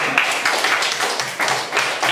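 A classroom of Indonesian pupils claps briefly during a lesson, a quick burst of uneven hand claps lasting about two seconds.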